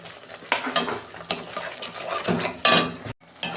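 A sweet bean filling stirred and fried in a pan: brisk, close scraping and clinking of a utensil against metal over a soft sizzle, in quick irregular strokes with a brief gap near the end.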